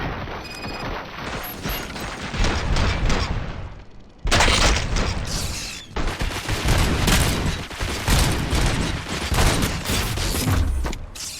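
Sustained gunfire in RoboCop: Rogue City, dense rapid bursts and booming shots running almost continuously at high volume, with a brief break near the middle before the barrage resumes, plus mechanical clanks throughout.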